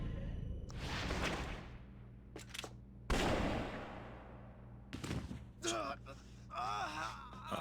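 Gunshots in the Wii game Trauma Team, a few sharp loud bursts with whooshing decays spread across the clip, mixed with game effects and voices.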